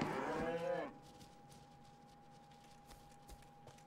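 A single loud cow moo from livestock in the video game DayZ, lasting under a second, then fading into a quiet field ambience with faint scattered sounds and a steady thin tone.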